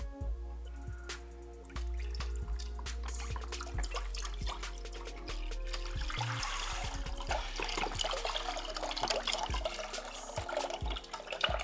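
Chicken broth is poured from a container into a cooking pot, a continuous gurgling, splashing stream that starts after a brief pause and grows busier, with close liquid sloshing and drips near the end.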